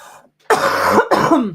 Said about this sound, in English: This flipping cough.